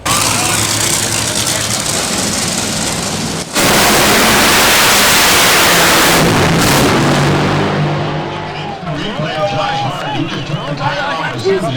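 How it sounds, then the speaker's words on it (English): Top Fuel dragsters and funny cars thunder at an NHRA drag race, a loud, continuous roaring blast of engine noise with a brief break, fading toward the end under crowd and announcer voices. "If you've never heard or smelled a Top Fuel dragster or funny car, there's nothing like it."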